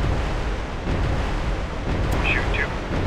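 A submarine torpedo fires from tube 2 in the naval combat game Cold Waters, a deep, continuous rushing roar with a pair of faint chirps near the end.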